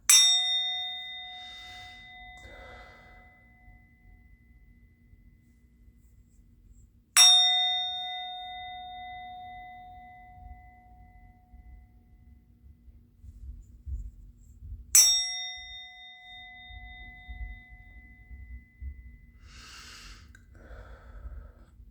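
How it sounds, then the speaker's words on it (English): A bell struck three times, roughly seven seconds apart, during a quiet indoor spiritual channeling session; each strike rings out clear and bright and slowly fades, with soft breathing and low background rumble between strikes. "I'm going to ring the bell"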